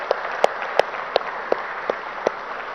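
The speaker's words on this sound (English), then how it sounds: "Can we have a bigger round of applause for the chief guest?" Sparse, evenly spaced hand claps, about seven in under three seconds, at an awards ceremony honouring a chief guest, moderately close against a quiet room.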